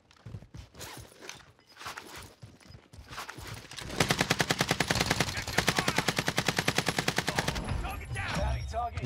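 Rapid automatic gunfire from a JAK-12 in Call of Duty Warzone Rebirth, a long sustained burst of evenly spaced loud shots after scattered footsteps and shuffling, with a player talking.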